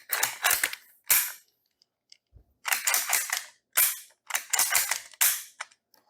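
Several sharp cap-gun style firing cracks in quick bursts from a Denix Lee-Enfield No.1 Mk III (SMLE) replica rifle being loaded and fired, close and loud, separated by short silences, with a faint mechanical click between shots.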